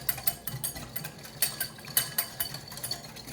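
A whisk clatters rapidly against a bowl while combining salad dressing for a watermelon, beet and feta salad, producing quick, rhythmic metallic ticks and scrapes up close with no talking.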